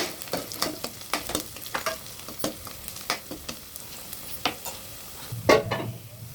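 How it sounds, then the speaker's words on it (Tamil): Green chillies and onion fry in a pan while a spoon stirs them, giving a soft background sizzle under repeated scraping taps in an even rhythm, close and moderately loud, with a heavier scrape near the end. "பச்சை மிளகாவை போட்டு நல்லா மிக்ஸ் பண்ணி விட்டுக்கலாம்."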